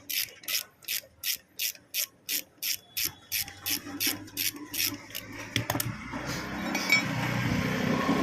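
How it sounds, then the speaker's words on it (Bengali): Spanner ratcheting loose the 8 mm nut on a scooter's front disc brake, a fast regular series of metallic clicks that gives way to scraping and clinking of the tool and nut. "এই আট নম্বর যে নাটটি আছে গিয়ে আমরা খুলে নিচ্ছি"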